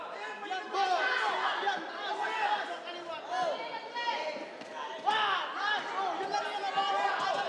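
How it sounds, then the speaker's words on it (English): Boxing crowd at a Blow by Blow fight night reacting to the bout: a steady murmur and chatter of many voices, swelling at moments, heard under a nearby commentator's talk. "The crowd really into this fight."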